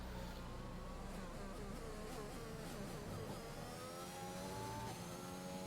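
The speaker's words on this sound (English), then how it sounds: "I'm just hearing the sounds here of the gearbox struggling" A Renault-powered car in a Bahrain International Circuit racing video game hums with a continuous, steady engine and gearbox drone, a buzzing whine with shifting tones running throughout at moderate level.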